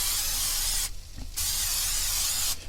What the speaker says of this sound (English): Hit her with a bit of Pam cooking spray here.